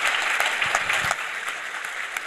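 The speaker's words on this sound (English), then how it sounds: "Let's give them a round of applause" A live audience at a city State of the City mayoral address claps together in dense, sustained applause with scattered sharper claps, steady throughout and fading only slightly near the end.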